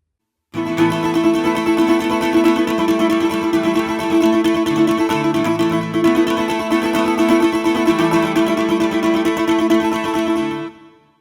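Guitar playing a continuous strummed riff, bright and steady at moderate volume, alone with no talking, ending abruptly.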